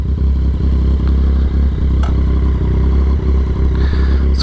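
A Yamaha XSR 900 motorcycle on a demo ride gives a steady, loud, low engine drone close up, with light mechanical clatter and wind noise throughout.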